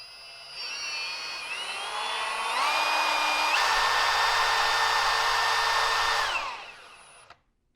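A Kobalt 24V right angle drill runs with no load and steps up through its variable speeds. The whine climbs in pitch in stages, holds loud and steady, then winds down and stops.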